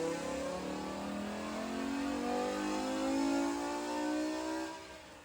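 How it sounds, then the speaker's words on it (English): A V10-swapped BMW E92 M3 revs hard on a dyno, its engine pitch climbing steadily in one long loud pull before easing off at the end, with no talk over it. "Greg proceeded to tune this car and beat on it."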